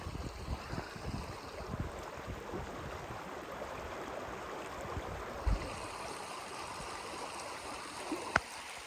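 Shallow, clear spring river running down from the mountains over stones, a steady close wash of babbling water with no talk, plus a couple of brief knocks near the end.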